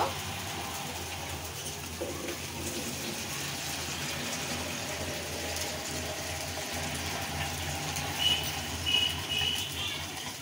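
Water runs into a pot of broken rice (khud) as it cooks, a steady close pour and gush with faint clinks of metal, and no one speaks.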